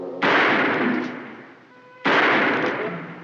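Two loud, close gunshots from a handgun, each a sharp blast with a long ringing decay, spaced about two seconds apart in a Western drama scene, with no voices.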